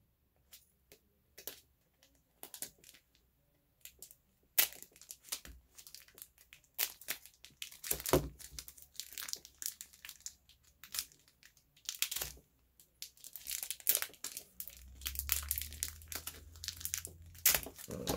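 A taped plastic trading-card team bag being pulled open, with scattered close crinkles and crunches in irregular bursts and brief pauses.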